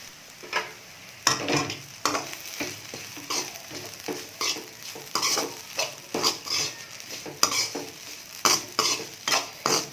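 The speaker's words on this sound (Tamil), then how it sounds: "நல்லா கலந்து விட்டுடுங்க." A spoon stirs fried egg with roasted gram powder in a frying pan, giving irregular repeated scraping strokes over a low sizzle, close and fairly loud, with no one talking.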